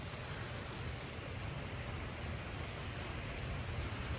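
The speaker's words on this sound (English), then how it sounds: "it is raining buckets outside." Heavy thunderstorm rain pours steadily in Frisco, Texas, amid 45 mph wind gusts: a dense, continuous roar that stays loud and even from start to finish, with no voices.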